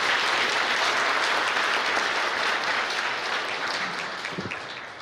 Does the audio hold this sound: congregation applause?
yes